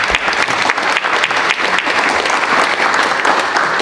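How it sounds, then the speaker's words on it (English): An audience at a 25th anniversary Kinte-Haley memorial reception claps steadily, a dense, loud wash of applause that holds evenly from start to finish. "So if we could give each other a round of applause."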